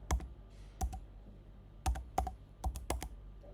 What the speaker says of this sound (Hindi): सबसे पहले आपको गूगल पर जाना है और यहां पर टाइप करना है मेलचैम्प